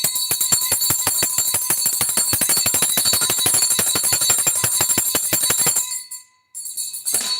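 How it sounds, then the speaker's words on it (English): A bell rung rapidly and continuously for about six seconds, a bright metallic ringing that fills the space, then stops briefly and starts again near the end, loud and close. "Ring that bell."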